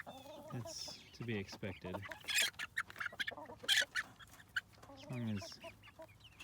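Chickens clucking and squawking inside a chicken tractor, several birds close by with busy overlapping clucks and sharp calls, while a person talks quietly.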